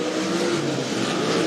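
Sprint cars roar around the dirt oval at Rapid Speedway, a loud, dense, continuous engine howl filling the whole moment without pause.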